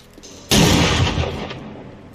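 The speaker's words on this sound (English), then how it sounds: "Did you hear my gunshot?" A single loud gunshot from the zombie survival game 7 Days To Die bursts suddenly with a booming blast, then rolls off into a decaying rumbling tail over about a second and a half.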